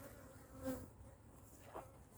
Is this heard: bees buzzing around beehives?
yes